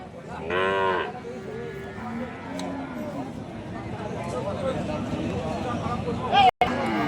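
Sahiwal cattle, cows and calves at a farm sale, with one clear, loud moo near the start, followed by a background of crowd chatter and people talking.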